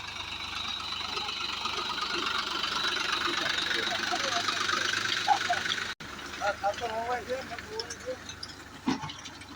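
A tractor engine runs on a farm, a steady mid-pitched chug with hissing noise, heard under a voice talking throughout.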